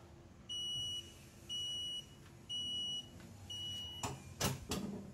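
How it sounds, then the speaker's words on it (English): A parcel locker buzzer sounds because a compartment door was left open, giving four evenly spaced, high-pitched beeps about a second apart, followed by some clattering handling noise. "This should begin the 20 seconds countdown before the buzzer alarm sounds."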